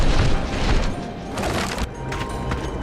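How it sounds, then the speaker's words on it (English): Cannons fire in the Skylanders: Giants video game, heavy booming blasts with cracking impacts landing in quick succession, loud and close with no pause in the barrage. "You think these people have enough cannons?"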